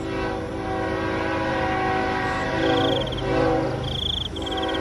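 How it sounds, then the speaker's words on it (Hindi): A train draws steadily closer along a railway track, its rumble building in a continuous wash while high horn tones sound twice, the second longer, near the end. "ट्रेन की आवाज भी अब तेज हो जाती है।"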